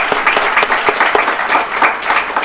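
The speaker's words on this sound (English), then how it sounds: "let's give one more round of applause to this great panel" A room full of people applauds a workforce panel at the close of a session, with brisk, crisp clapping that stays steady and fairly loud for a couple of seconds, alone without speech.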